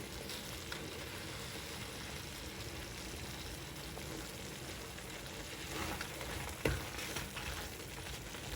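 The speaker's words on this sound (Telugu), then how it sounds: "ఇప్పుడు మొత్తం కూడా కలుపుకొని 2 నిమిషాలు ఈ తాలింపులో దీన్ని ఉడకనివ్వాలి" A brinjal and okra curry simmers in hot tempering, giving a steady, even sizzle and gentle bubbling throughout, close up with no voices.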